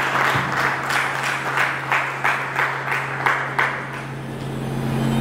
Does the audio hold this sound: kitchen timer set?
no